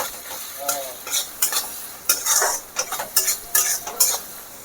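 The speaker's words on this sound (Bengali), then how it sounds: "তো সব কিছু ভালো করে নাড়তে থাকবো।" Green chillies, rice paste and spices stirred in a cooking pan over a low sizzle, with repeated bursts of spoon scraping and clinking against the metal, fairly close and without talk.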